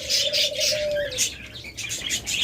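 Pet budgerigars and lovebirds kept for sale chirp in a rapid, repeated chatter, with one brief whistled note partway through, close and fairly loud.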